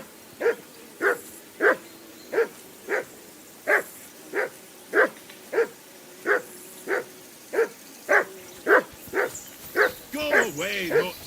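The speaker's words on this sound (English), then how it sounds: "Henry, that barking's driving me nuts. Can you get your dog to shut its beak?" A dog in the video game Kingdom Come: Deliverance 2 barks again and again in a steady, evenly spaced rhythm at moderate distance, ending in a few yelping whimpers, with speech also present.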